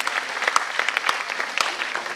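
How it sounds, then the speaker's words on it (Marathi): An audience at a National Nutrition Month inauguration ceremony claps loudly and continuously, many hands forming a steady patter with a few sharper individual claps standing out. "जोरदार टाळ्या वाजू देत"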